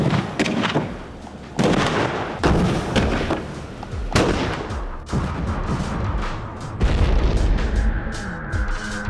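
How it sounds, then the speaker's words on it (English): A vehicle blown up in a deliberate explosion test gives a series of heavy booms and blasts, loud and rumbling, with debris crashes and echoing aftershocks and no talk. "vehicle clearly hasn't survived the explosion"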